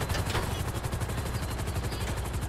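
Police gunfire in Grand Theft Auto V: steady, dense automatic shooting rattles on without pause, loud and continuous through the whole stretch with no talk.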